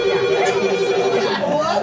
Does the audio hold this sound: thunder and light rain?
no